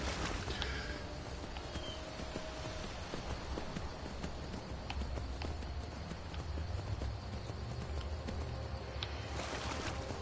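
Horse galloping in the Skyrim video game, a fast, continuous run of hoofbeats over a constant dense outdoor game ambience, steady and moderately loud for the whole stretch.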